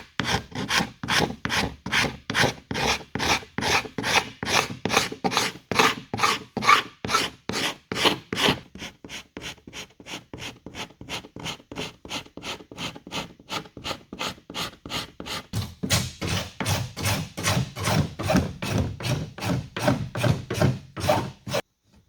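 Rhythmic back-and-forth scraping of old sealant from a wooden deadlight opening on an exterior wood-veneer fiberglass boat cabin, steady close strokes throughout with a brief quieter stretch midway, no talking.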